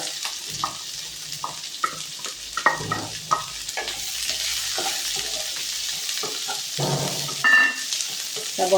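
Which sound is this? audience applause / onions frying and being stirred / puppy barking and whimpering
onions frying and being stirred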